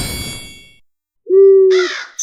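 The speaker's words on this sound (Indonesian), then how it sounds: "Suara burung gagak menghiasi keheningan malam" A single crow gives one loud, drawn-out caw in the night stillness, following a brief fading swish, and another call starts right at the end.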